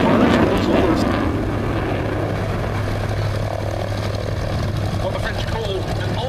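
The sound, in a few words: propeller aircraft flying at Duxford air show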